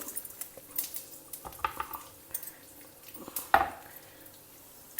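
A spoon scrapes and clinks in a pan of hot oil as chana dal, cashews, groundnuts and dry and green chillies are stir-fried, with close, irregular metallic taps over a soft sizzle and no talk.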